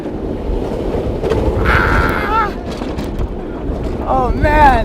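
Ride on the Wonder Woman Flight of Courage roller coaster at Six Flags Magic Mountain, with steady loud wind roar and rattling train rumble throughout and riders shouting and cheering over it.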